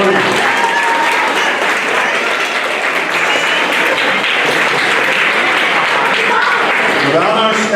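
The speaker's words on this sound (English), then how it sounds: "Now I want them to give their parents a round of applause for supporting them" Students at a 7th-grade middle school academic awards ceremony give their parents a round of applause, a loud, continuous crowd clapping with scattered voices mixed in throughout.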